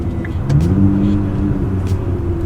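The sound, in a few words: sports car exhaust during downshifts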